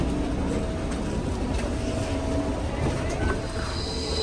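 A Berlin metro train rumbles along its track, steady and fairly loud, with faint wheel squeals and clatter heard from inside the carriage, while a voice speaks quietly under the noise.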